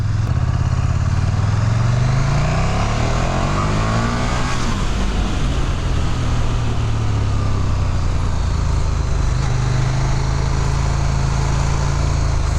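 A loud engine drones steadily throughout, with rising and falling pitch as it revs and shifts, close by and continuous with no talking.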